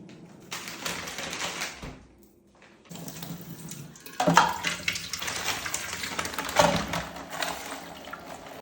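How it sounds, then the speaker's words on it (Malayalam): Tap water runs and splashes over a frozen one-kilo chicken packet left soaking to thaw, a steady hiss that pauses briefly, then resumes with louder splashes and a couple of knocks. "അത് അതുപോലെ തന്നെ വെള്ളത്തിൽ അങ്ങ് മുക്കിയിട്ടു അലിയാൻ വേണ്ടിയിട്ട്"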